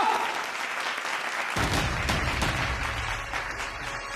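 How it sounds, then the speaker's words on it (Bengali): Studio audience applause breaks out, starting faint and then swelling into full, steady clapping from a crowd that continues to the end. "আরে জোরে হাততালি হোক একটা"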